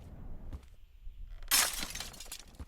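Glass shattering after being knocked, inside an abandoned ship's restaurant in the desert: a sharp, bright crash with scattered tinkling fragments, fairly close, following a quiet moment with faint background noise.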